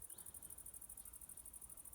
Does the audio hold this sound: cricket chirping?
yes